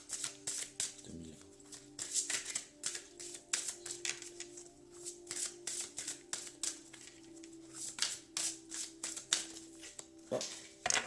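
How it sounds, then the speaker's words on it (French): Angel oracle cards shuffled by hand in a steady run of crisp papery riffles and flutters, with soft taps and handling noises, close up, along with a voice talking quietly. "je vais tirer 3 cartes des anges de l'amour"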